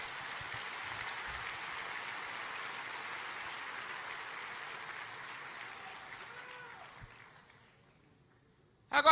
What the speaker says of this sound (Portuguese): Se é para aplaudir, aplauda com vontade